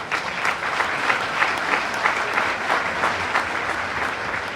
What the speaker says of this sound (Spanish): Un aplauso pues por la hermana.